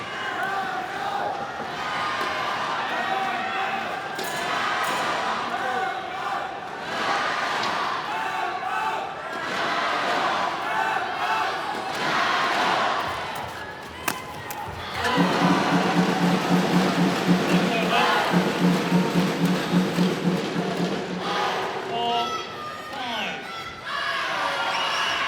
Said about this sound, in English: A lot of cheering going on from the Indonesian camp